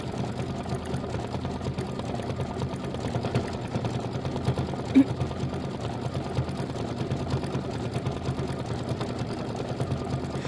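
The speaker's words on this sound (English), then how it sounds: "We've got just 2 more minutes of stitching." An embroidery machine stitches a Kimberbell Thanksgiving pillow design on leather, a steady rapid mechanical whir with a fine even pulse throughout and one small click near the middle, with no talking.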